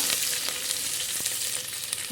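Hot oil sizzles and crackles steadily as curry leaves fry in tempering for a spicy black masala curry, a bright hiss with small pops scattered through it.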